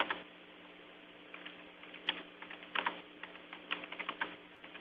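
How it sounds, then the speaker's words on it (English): Keys clatter on a computer keyboard during an online webinar, a run of quiet irregular clicks and taps with a few sharper strikes, close but soft over a steady low hum, with no talking. "So, Cliff, you want to let us know what you're typing in there?"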